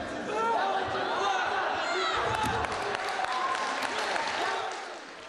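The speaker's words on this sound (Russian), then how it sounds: "Аплодисменты во время схватки раздавались только после эффектных приемов." Audience at a mixed martial arts tournament breaks into applause and chatter, a busy crowd roar with scattered claps and thuds that swells, holds for several seconds, then fades slightly; a commentator speaks over it.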